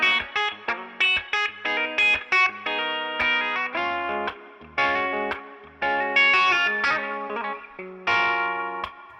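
Epiphone Shinichi Ubukata ES-355 electric guitar on a thin, telephone-like tone setting, playing a run of plucked notes and chords with sharp attacks and short decays, close and moderately loud with no talking.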